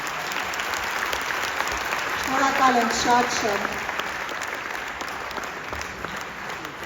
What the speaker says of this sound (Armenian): ծափերը թող չդադարեն